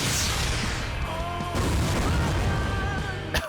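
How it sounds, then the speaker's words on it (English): A continuous rumbling explosion and blast noise from the PSP Mini jet combat game Top Gun, loud and dense throughout, with a sharp burst near the end. "Oh, I love explosion"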